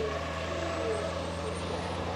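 A racing truck at the Le Mans circuit powers out of a chicane, its heavy engine holding a loud, steady droning note in the brief moment captured.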